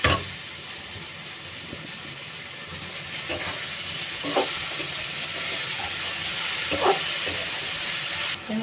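Chopped banana flower dropped into hot oil with fried potatoes and cumin, giving a steady hissing sizzle with a few louder crackling pops, close up, no talking.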